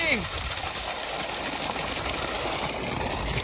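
A submersible pump gushes a strong, continuous stream of water, a loud steady rush with an engine-like hum underneath throughout.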